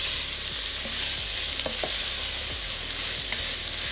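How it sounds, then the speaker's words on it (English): Mixed vegetables fry in a pan for a coconut milk curry, giving a loud, steady close sizzle with occasional knocks and scrapes of stirring; no one speaks. "fry it just for a couple of minutes just to start heating it up and getting all those flavours combined"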